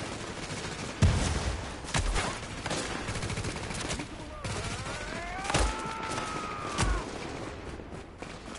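Gunfire in The Division, repeated bursts and single shots at mid distance in a firefight, with a person talking over it.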